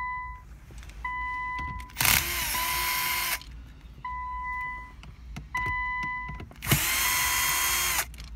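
A power drill spins screws out of an Infiniti Q50 dashboard monitor panel in two separate bursts of loud, high-pitched whirring, each preceded by quiet electronic chime tones.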